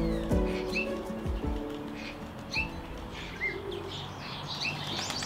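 Native UK starlings call outdoors, with several short chirps and whistles, squeaky and moderately close, repeating irregularly over low background noise and a few dull thumps.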